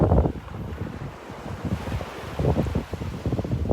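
Strong wind buffets a microphone on a North Naples, Florida beach, roaring in uneven gusts over the low wash of surf, loud and close throughout with no voices.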